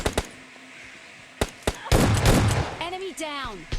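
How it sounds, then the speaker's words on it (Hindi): Gunfire in PUBG Lite, a few sharp separate shots early on followed by a dense burst of rapid fire, then a whooshing effect, loud and close, with someone talking. "मेरे टीममेट पे बॉट फायर करने लग गया"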